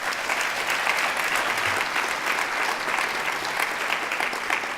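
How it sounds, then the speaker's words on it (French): An audience at a university thesis competition event claps steadily, a dense even wash of applause that holds throughout without talk. "ils méritent aussi vos applaudissements."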